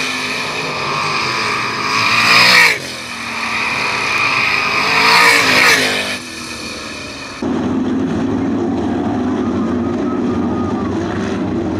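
Sprint or race cars roaring down the backstretch at Attica Raceway Park as a heat race finishes, loud sustained engine drone rising and falling as cars pass close, then a steadier lower rumble.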